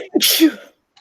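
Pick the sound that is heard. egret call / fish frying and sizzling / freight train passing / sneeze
sneeze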